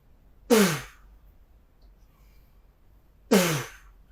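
A mouth imitates spitting out a watermelon seed as trumpet practice, making two short, breathy puffs roughly three seconds apart, close and alone.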